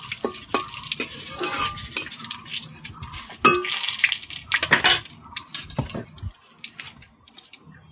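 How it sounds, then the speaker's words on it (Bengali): Whole spices (cumin, garam masala, bay leaf, dried chilli) being stirred in a pan for Bengali chicken kosha, with a utensil scraping and clinking against the metal amid a steady sizzle, louder bursts midway. "একটু নাড়িয়ে টাড়িয়ে"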